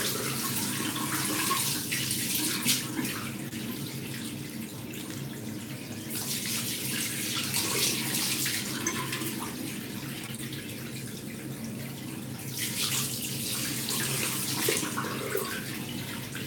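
Tap water runs steadily into a sink while someone rinses off after a face shave, a continuous close hiss that swells louder in bursts as hands pass through the stream.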